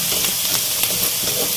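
Onions frying in a pan for chicken tikka masala, a loud, dense, even sizzle with faint stirring scrapes and no voices.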